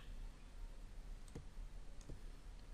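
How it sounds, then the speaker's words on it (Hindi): Two crisp clicks of a computer mouse's left button while holding Shift during CorelDraw editing, spaced under a second apart over faint background hiss. "पकड़ के माउस का लेफ्ट बटन क्लिक करके देखिए"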